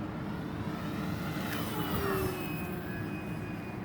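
An E-flite T-28B Trojan 1.2m RC airplane makes a high-speed pass during its maiden flight, a steady whining motor drone with a faint pitch sweep as it goes by. Strong wind-like rumble stays constant throughout.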